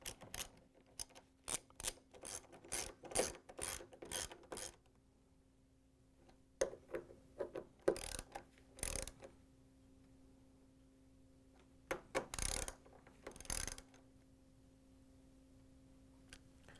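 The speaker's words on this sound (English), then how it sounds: "then you can tighten them all down." Screws being tightened on a Whirlpool refrigerator door hinge, several quick runs of close, crisp ratcheting clicks separated by pauses, over a faint steady hum.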